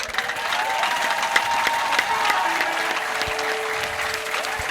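A church congregation at an ADEPR prayer service claps in sustained, dense applause with a few faint cheers, filling the room at an even level from start to finish.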